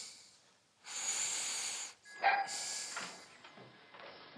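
Dogs give several short barks and snorting breaths, close by but fairly quiet, with gaps between bursts and a hissing noise underneath.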